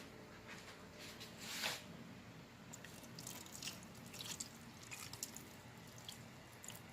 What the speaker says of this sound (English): We're gonna pour in the hot water and tomato paste mixture.